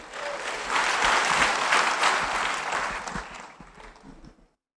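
An audience at a marketing plan presentation bursts into applause that swells quickly, holds as a dense wash of clapping for a few seconds, then fades out.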